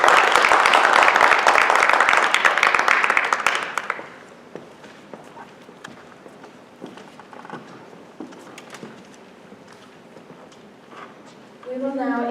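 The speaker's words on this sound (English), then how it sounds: "Let's give them a round of applause." Applause from a ceremony audience at a high school National Honor Society event: loud dense clapping for about four seconds, then fading into scattered claps, shuffling and footsteps before a voice begins speaking.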